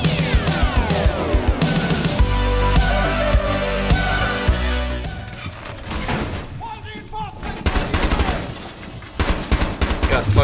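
Rapid bursts of loud close gunfire in Rainbow Six Siege, dense automatic shots mixed with thuds and impacts, easing briefly before firing resumes.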